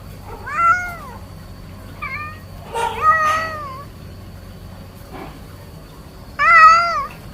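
A kitten separated from its mother cat meows in short, high, wavering calls, several bursts with pauses between them, close and clear with no talking.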